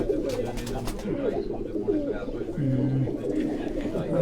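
Moti pigeons belonging to someone coo and call softly amid a dense flock, a low, rolling murmur with occasional wing flutters, under nearby conversation.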